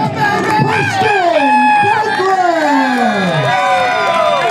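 At an indie wrestling show in Barre, Vermont, a crowd roars and cheers loudly for Preston Douglas, with many overlapping high voices shouting and whooping in a continuous, excited swell.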